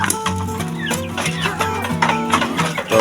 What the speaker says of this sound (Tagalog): Pakainin natin itong tatlong pulit ko mga kamanok